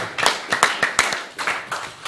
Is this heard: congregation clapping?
yes